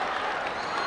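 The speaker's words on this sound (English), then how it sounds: "And with that, the Teaneck crowd goes crazy." Teaneck basketball crowd erupting in cheers after a three-pointer at the 2009 Bergen County Jamboree championship game, a dense, loud roar of cheering and clapping filling the whole brief moment.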